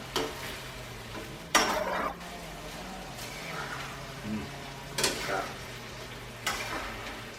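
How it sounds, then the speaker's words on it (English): Pasta tossed in sauce sizzles in a pan, with a steady low frying hiss broken by several louder bursts of stirring and scraping about every one to two seconds, close and clear with no talk. "Now you want to let that cook on the pan for a couple minutes so that the sauce sticks to the pasta."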